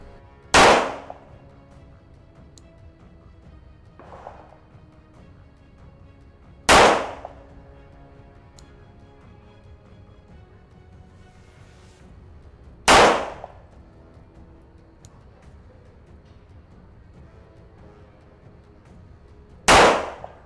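A Colt Gold Cup Trophy 1911 pistol fires at a target outdoors, four sharp isolated shots spaced about six seconds apart, each loud with a short ringing tail.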